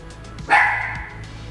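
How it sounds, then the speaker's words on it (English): One sharp, loud bark from a nearby dog, brief and alone against a quiet background. "What are you barking at there, bud?"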